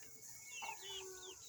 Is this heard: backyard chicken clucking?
yes